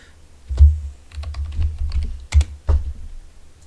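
Close, fairly loud computer keyboard typing comes in a few quick bursts of clacking keystrokes with short pauses between them, no voices.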